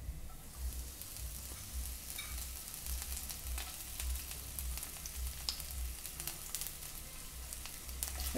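Curry leaves fry in a pan for a cabbage egg dish, making a soft, continuous sizzle with faint scattered crackles and light stirring taps.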